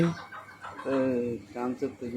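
Game fowl (fighting chickens) cluck close by in short, repeated bursts, a few calls overlapping with loose, uneven timing.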